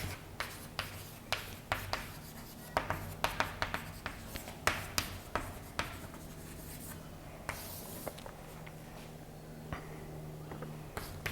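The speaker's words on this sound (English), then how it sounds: "So let me write this down." Marker or chalk writing on a board during a quantum information theory lecture: scattered soft taps and scratchy strokes in irregular bursts, fairly quiet, with a faint background hum and no talking.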